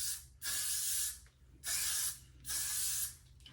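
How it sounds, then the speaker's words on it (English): Got to Be Glued Blasting Freeze hairspray sprays onto short pixie-cut hair in three close, loud hissing bursts of about a second each, separated by short pauses. "I'm gonna spray it with this Blasting Freeze spray by Got to Be Glued."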